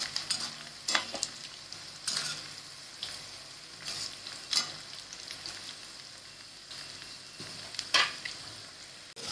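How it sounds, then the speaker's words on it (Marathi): Bread pakoras deep-frying in a kadai give a steady bubbling sizzle of hot oil, broken by a few sharp scrapes and stirring clinks at irregular intervals, heard close with no talk. "ब्राऊन कलरचे होईपर्यंत चांगले तळून घ्यायचे आपली भजी."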